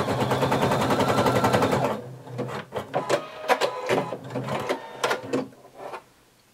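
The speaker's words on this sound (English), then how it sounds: "And I'm going to just sew across the top just to secure it." A domestic sewing machine stitches across the top of a swimsuit in a fast, steady rapid-fire whir for about two seconds, then stops, leaving scattered clicks and handling noises of fabric and machine.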